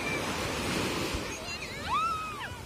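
Sea waves wash steadily onto a beach at Mezitli in Mersin, Turkey, a continuous, fairly soft surf hiss with a few faint bird-like calls rising near the end.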